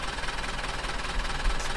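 Tractor engine in Farming Simulator 2015, hauling compost on the Tunxdorf map, runs as a steady mid-pitched drone with faint knocking, continuous and fairly close for under two seconds with no talk over it.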